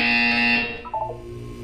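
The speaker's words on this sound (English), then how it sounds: "You will hear a buzzer." A loud, sustained electronic buzzer from the video game Portal 2 drones steadily for about half a second, then cuts off into a few short, fading tonal blips.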